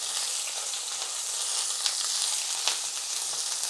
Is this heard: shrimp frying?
yes